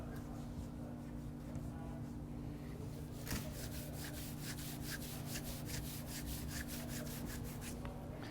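Faint, rhythmic rubbing strokes of a hand over clayed car paint on a hood, a soft squeaky friction repeating steadily over a low background hum.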